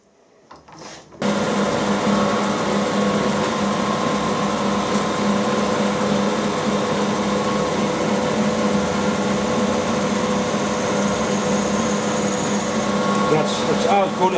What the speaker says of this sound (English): the mill's running at about the same speed